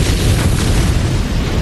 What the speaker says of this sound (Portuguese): Quando a arma é detonada